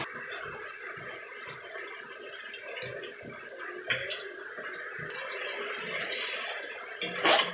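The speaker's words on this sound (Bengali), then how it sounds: "সামান্য পরিমাণে জল দিয়ে দেবো এবারে" Water poured into a pan of simmering fish curry (macher jhal) makes a steady, moderately loud splashing hiss with small bubbling pulses, plus a light clink near the end.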